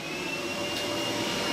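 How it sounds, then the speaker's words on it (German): A hair dryer blows steadily close by, drying out a motorcycle part soaked in heavy rain, a continuous whooshing airflow with a faint high whine and no talk. "Jetzt mache ich hier mit dem Föhn,"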